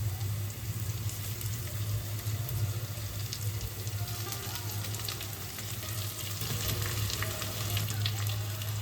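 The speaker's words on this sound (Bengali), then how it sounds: "এদিকে আদা রসুন সহ পেঁয়াজটা আমাদের খুব ভালোভাবে কষানো হয়ে গেছে। এবার আমি সেদ্ধ করে রাখা আলুটা দিয়ে দিচ্ছি।" Boiled potatoes fry in a pan with sautéed onion, ginger and garlic for a Bengali egg devil dish. A continuous close sizzle holds steady throughout, with light stirring scrapes and no talking.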